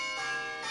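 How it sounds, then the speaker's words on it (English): An earnings alarm rings with a bright, sustained, bell-like tone that is steady and moderately loud for its whole short length. "Sorry, that's my alarm."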